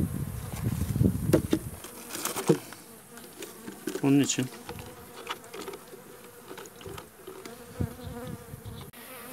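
Honey bees swarm and buzz at an open beehive while colonies are being merged, a dense, close, fluctuating hum with a few words spoken briefly over it.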